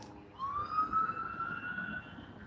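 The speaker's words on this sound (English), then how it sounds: "I think it's just an ambulance driving by." A distant ambulance siren wails in a long rising-and-falling tone, faint against quiet background noise as it passes.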